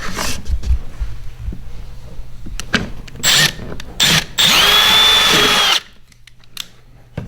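Close, loud power drill: several brief whirring bursts, then a steady grinding run through a plastic kayak hull before stopping, with faint handling clatter between.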